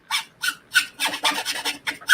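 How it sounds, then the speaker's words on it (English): Metal filing at a workbench: about a dozen quick rasping strokes in an even back-and-forth rhythm, close and fairly loud, with no talking. "I'm filing."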